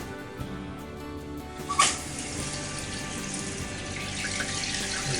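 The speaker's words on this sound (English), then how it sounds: "You can hear the water coming in" Water rushes into a toilet tank through a newly installed fill valve, a steady hissing flow that swells after a brief clank, continuous and close.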